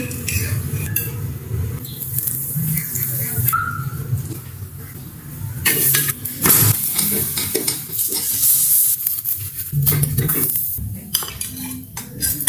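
An egg sandwich toasts in butter in a pan, giving a steady close sizzle with scrapes and clinks of a utensil against the pan, louder bursts around the middle and no voices.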